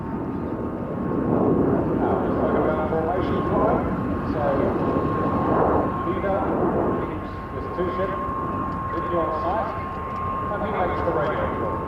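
Retired Fouga Magister jets of Team Crystalline fly at an airshow, a steady loud roaring whine that swells and eases under continuous commentary from a man over a public address.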